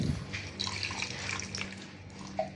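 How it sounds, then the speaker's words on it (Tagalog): Water being poured into a cooking pot, a close, steady splashing flow that carries on throughout without a break, no talking. "At ito yung tubig, lalagyan ko na rin."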